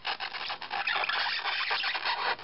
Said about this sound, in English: So I'm trying to make a single neat cut down one side so that I don't have to go back and do any trimming.